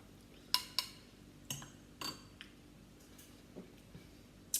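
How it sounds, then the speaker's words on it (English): A spoon stirring broccoli coffee with milk in a cup: a handful of light, sharp clinks of metal against the cup, irregularly spaced and fading toward the end, with no talk. "So I'll just stir that up."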